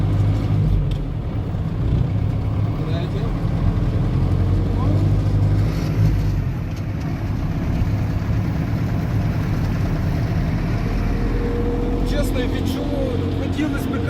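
A homemade ZIL truck with a tractor engine drones steadily throughout, low and rumbling as it drives loaded in second gear in freezing weather, with a voice talking faintly over it.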